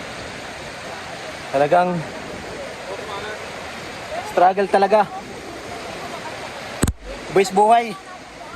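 A strong, deep river current rushes steadily in the background, a dense continuous roar of water that never lets up, while people speak intermittently over it.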